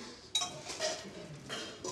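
A cooking pot clinks in a home kitchen, with a sharp metallic knock followed by a few lighter rattles and scrapes over roughly two seconds, fairly faint and close, with no talking.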